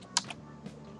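A few faint keystrokes on a computer keyboard, typed in short separate clicks in a quiet room with no voices.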